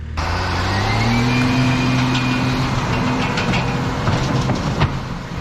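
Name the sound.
machine bucket teeth scratching up the surface of the dirt pad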